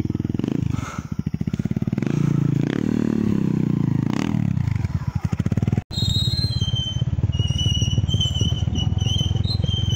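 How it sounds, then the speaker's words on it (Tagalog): Borrowed motorcycle riding a steep mountain forest road on Mt. Manunggal in Balamban, Cebu, its engine loud and close, revving and shifting pitch, with rattles and clatter from the rough surface. "Ang motor na aming hiniram."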